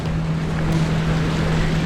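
A Ford Explorer pushes through deep flooded sea water on a road from an uninhabited island, giving a dense, steady rushing and sloshing roar with a low engine drone underneath and no talking.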